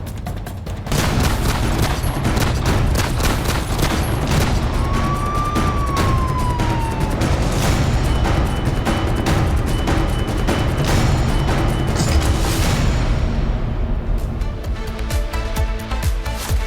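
Rapid bursts of gunfire fired across the Line of Control into Indian territory in Rajouri district, loud and dense, repeating steadily throughout with a brief siren-like wail partway through.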